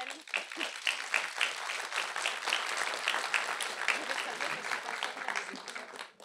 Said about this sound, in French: Je pense qu'on peut même l'applaudir